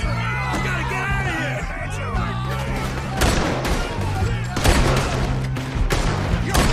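Gunfire crackles through a Red Dead Redemption 2 shootout, a steady fusillade of shots with sharper bursts near the end, while people yell and talk over the din.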